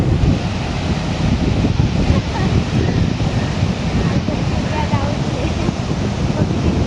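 Continuous roaring surf and wind, waves at high tide washing steadily on a beach at Alibag, with heavy wind noise on the microphone.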